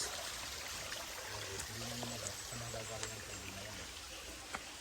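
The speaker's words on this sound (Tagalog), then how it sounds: "May ilog sila dito, ayan guys. Oh. Maagos." A fast-flowing mountain river runs steadily through a rocky, overgrown forest setting, its broad constant rush heard up close, with voices talking over it partway through.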